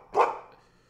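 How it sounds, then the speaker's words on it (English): A dog in the video game Real Stories from the Grave gives one short, close bark that fades quickly into quiet. "It's just a dog standing there barking next to us."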